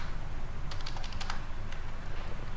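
Typing on a computer keyboard while entering a GST payment narration in TallyPrime accounting software, a quick run of light key clicks over steady room hiss, with no voice.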